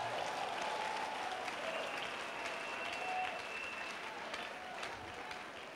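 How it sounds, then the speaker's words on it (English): A church congregation claps together in a dense, continuous wash of applause, with faint voices and a few tonal notes underneath, holding a steady level throughout. "Give Jesus a clap of it"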